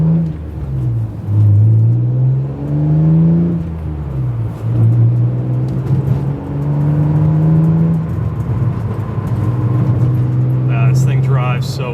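A BMW E36 M3 on the road, its engine droning and rising and falling through gears with a steady rumbling tone, heard from inside the car while someone talks.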